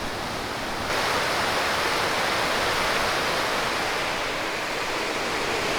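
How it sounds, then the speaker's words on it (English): A continuous roaring rush of falling water from a waterfall in cold northern Georgia, loud and steady, filling the whole clip without any voices. "there's definitely a waterfall here"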